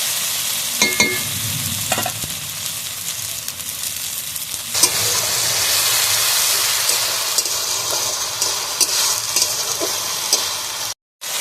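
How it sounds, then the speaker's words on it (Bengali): Ground ginger-garlic spice paste sautéing in a pan for a bhetki fish-bone chorchori, a loud continuous sizzle with stirring scrapes, swelling midway and cutting off abruptly at the end. "দিয়ে দেবো বেটে রাখা আদা রসুন। মশলাটা ভালোভাবে কষিয়ে নেব।"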